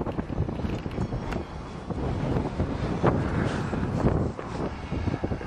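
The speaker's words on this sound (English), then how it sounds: "It's so windy out here, I'm trying to make sure it's not too muffled." Strong wind buffets an outdoor microphone on a farm, making a continuous loud, rumbling, muffled roar with gusty swells and no talking.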